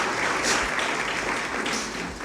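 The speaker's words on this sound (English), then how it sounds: "I want to applaud them because they were phenomenal" An audience applauds a musical family at a community breakfast, with dense, steady clapping filling the room, loud and continuous before easing slightly at the end.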